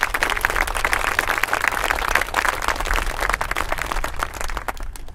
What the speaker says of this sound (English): please give the Gilbert family a round of applause for me